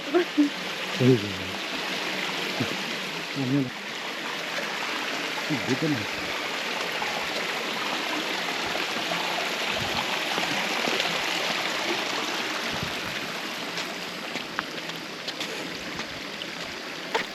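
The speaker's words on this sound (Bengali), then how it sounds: "ঝর্ণার পানি প্রবাহিত হচ্ছে পাহাড়ের উৎসস্থল থেকে" Rushing water from a hillside waterfall stream flows steadily in a broad, continuous wash, with a few brief voices near the start before the roar dominates.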